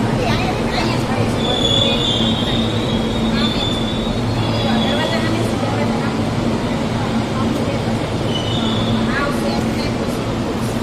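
Inside an Ahmedabad metro train during a ride: a steady, loud rolling rumble with faint high wheel squeals rising now and then, and a murmur of voices beneath.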